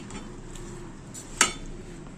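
Rice being stirred into mutton curry in a cooking pot for dum biryani, heard as a soft steady scraping and shuffling with one sharp metallic clink of a utensil against the pot near the middle, no talking.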